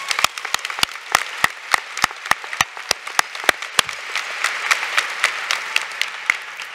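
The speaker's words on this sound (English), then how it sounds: "And for that, I give you a round of applause." Applause from the audience at a University of North Carolina at Chapel Hill doctoral hooding ceremony: sharp, separate close claps in a quick steady rhythm over a softer crowd clapping that swells toward the end.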